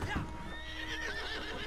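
Horses whinny in a video game, a rising neigh over faint clip-clop hooves, quiet and brief against low background noise.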